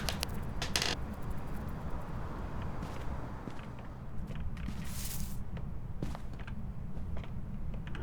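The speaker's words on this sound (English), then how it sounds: "I don't know about how this door sounds." A door creaking in the horror video game Phasmophobia, with slow mechanical creaks and ratcheting clicks over a steady low ambient rumble and occasional footstep-like taps.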